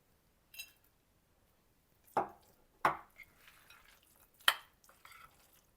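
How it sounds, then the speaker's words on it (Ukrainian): A few separate spoon scrapes and soft thuds against a bowl, irregular and close, with quiet gaps between the stirring strokes, mixing cranberries into cheese for a filling. "зараз буду змішувати із сиром"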